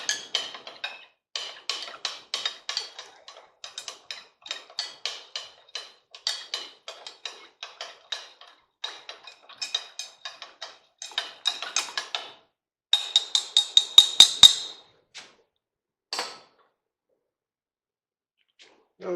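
A glass rod stirring a solution in a glass beaker during copper cementing from silver, producing a long run of quick light clinks and ticks, close and sharp with brief pauses and no talking.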